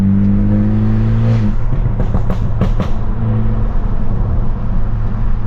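A straight-piped stage 2+ BMW F30 heard from inside during hard pulls: a loud, continuous droning exhaust note climbing in pitch, broken by a cluster of sharp pops and bangs midway before the drone resumes.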